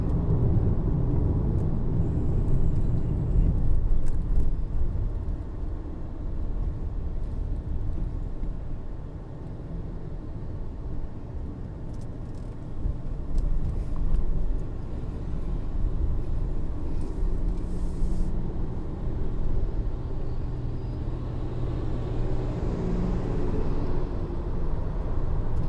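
A 2019 Nissan Leaf electric car climbs a hill on the Genting road, making a steady low rumble of road and tyre noise inside the cabin, continuous and moderately loud, with faint whine and rattles above.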